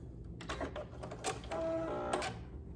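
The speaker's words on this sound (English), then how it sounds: "I'm just going to do an edge stitch around that full corner, and I'm just doing a regular straight stitch" A sewing machine runs a regular straight edge stitch around the corner of an elastic waistband, a close mechanical whirring and clatter in short bursts with brief pauses, and no talking.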